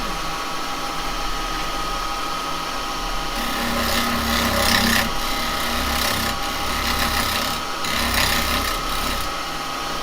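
A spindle gouge cutting a wooden skull bowl on a lathe, heard as a continuous motor hum under a rough, scraping rasp that swells and eases in uneven passes at close range, with no speech.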